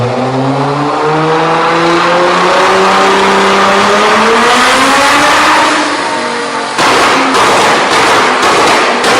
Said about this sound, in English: it's going to explode and like pop out the back of the exhaust basically.